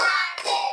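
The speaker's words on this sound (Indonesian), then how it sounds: "Tepuk 4." Children and teacher in a classroom clapping a short group rhythm during an icebreaker, with a few quick, close claps and some voices in a brief burst.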